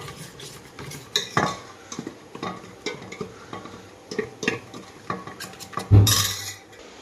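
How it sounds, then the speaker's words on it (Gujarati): A spoon stirring kasuri methi into vada pav masala in a pot, with scraping and clinking strokes repeating steadily, close up, and a sharper metallic knock near the end. "કસ્તુરી મેથી નાખીએ હવે મિક્સ કરી દો અંદર"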